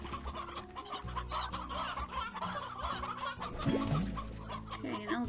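Chickens cluck in the farming game Slime Rancher, a busy cluster of repeated short clucks and squawks over a low background hum, with a brief louder call near the end.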